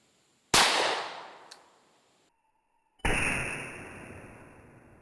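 Two loud .357 Magnum gunshots about two and a half seconds apart, each a sharp crack with a long ringing decay and nothing else between them.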